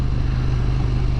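A KTM Super Duke GT motorcycle is ridden on the road, with a steady low engine drone and wind rush heard from the rider's position, loud and continuous and without talk.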